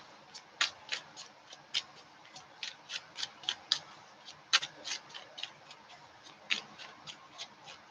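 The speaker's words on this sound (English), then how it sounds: "Every day I'm shuffling." A Chrysalis Tarot card deck being shuffled by hand, a steady run of crisp, light card snaps and riffles close to the microphone, with no talk.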